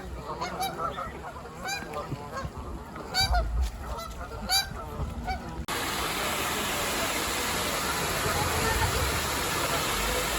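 Geese honking at the Linesville Spillway on Pymatuning Lake, Pennsylvania: repeated nasal honks in an irregular burst over the first half, then a steady roar of rushing water takes over.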